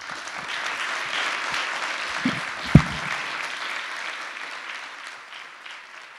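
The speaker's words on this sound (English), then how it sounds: "Another round of applause for all the speakers." Audience applause at a peace oratorical speech contest, a steady broadband patter of many hands that swells with a couple of louder sharp claps near the middle, then slowly thins and fades toward the end.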